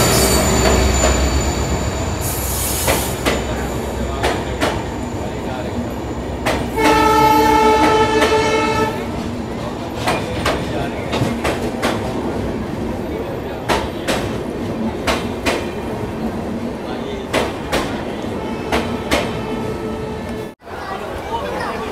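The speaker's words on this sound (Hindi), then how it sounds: "तो भाई ये आ गई अपनी ट्रेन प्लेटफॉर्म नंबर 1 पे, WDP4B लोकोमोटिव है भगत सिंह कोठी का।" A passenger express with a WDP4B diesel locomotive rolls into platform 1 at Jaipur station, loud wheel clatter and squealing brakes, a horn blast, and rhythmic rail thumps, with a voice talking over it.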